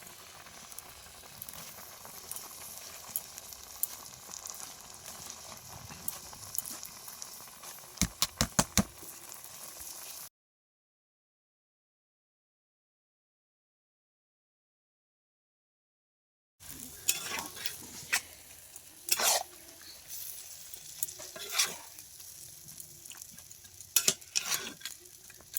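Red amaranth greens cook in a pan with boiled vegetables for a sour vegetarian dish, giving soft sizzling and repeated stirring scrapes close by; the sound cuts to silence partway through, then the stirring resumes.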